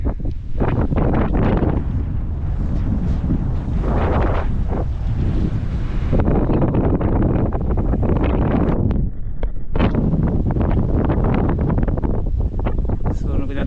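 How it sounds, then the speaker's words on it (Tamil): Strong wind buffets the microphone at a hilltop viewpoint on a rainy day, a loud, continuous roaring rush with gusts rising and falling throughout. "நல்லா காற்றடிக்குது"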